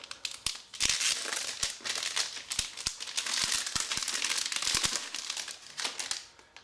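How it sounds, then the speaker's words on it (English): A new Apple keyboard is unwrapped from its plastic packaging, heard as close, continuous crinkling and crackling with sharp clicks and rustles throughout. "Alright, let's unwrap this."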